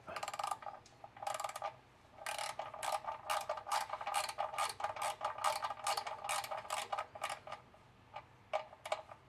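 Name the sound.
13mm ratchet being used on a Ford Ranger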